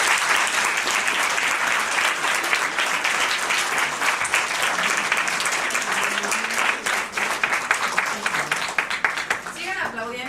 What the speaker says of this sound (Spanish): Sigan aplaudiendo.